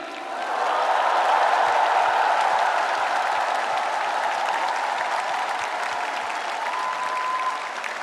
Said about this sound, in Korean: 우리 두 분 후보님께 뜨거운 격려의 박수를 부탁드립니다.